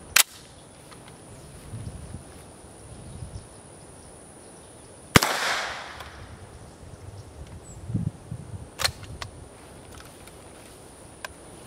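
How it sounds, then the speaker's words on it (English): A single 9mm M882 ball round is fired from an HK MP5 into a backpack. One sharp, loud report rings out in an otherwise quiet outdoor space, framed by a few faint clicks and light rustling. "Starting with one round of 9mm, M882 ball out of an HK MP5."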